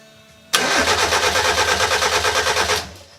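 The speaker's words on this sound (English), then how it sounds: "Favour, you crank again? Crank again" A Mini's engine cranks and then catches, settling into a loud, close, rhythmic mid-pitched idle that pulses evenly for a few seconds before cutting off.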